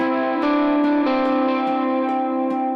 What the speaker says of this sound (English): here's what that sounds like with the click track